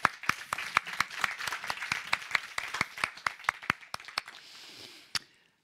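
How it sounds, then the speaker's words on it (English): An audience at an academic event on sustainable societal transformation gives a warm round of applause: a brisk run of sharp, distinct hand claps that thins out and fades, ending with a final lone clap. "let's give them all a warm hand of applause to send them off"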